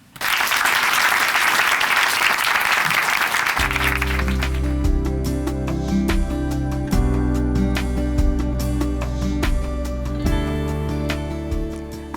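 Applause from a church congregation welcoming a speaker, loud and dense at first, then continuing under a swelling sustained music bed that takes over as the clapping fades.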